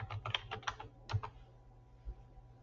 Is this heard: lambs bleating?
no